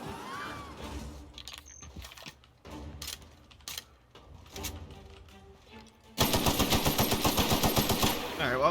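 Rapid automatic gunfire in the video game The Outer Worlds, a loud, dense burst of evenly spaced shots over the last few seconds, preceded by quieter in-game sounds.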